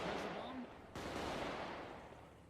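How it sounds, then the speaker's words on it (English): In GTA, a sharp gunshot cracks once amid ambient in-game noise, with a voice and a faint tonal sound just before it and a dull fading tail afterward. "Who's shooting?"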